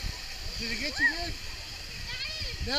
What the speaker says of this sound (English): Now we're about to hit the waterfall.